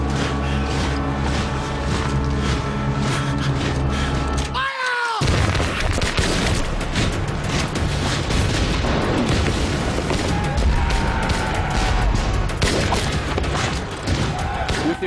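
Musket volley fired by militia in a battle dramatization, heavy booming gunfire erupting after a loud sustained din, with rolling fusillade and shouting voices mixed into a dense, loud soundtrack.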